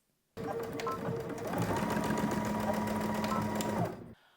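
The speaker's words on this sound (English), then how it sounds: "we're going to stitch again 3/8 of an inch on both sides" A sewing machine stitches a cardigan seam, starting abruptly and running in a steady close whir for about four seconds, its motor pitch rising slightly before it stops.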